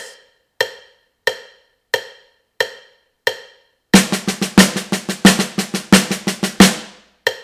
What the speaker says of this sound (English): It's going to be 4 single paradiddles.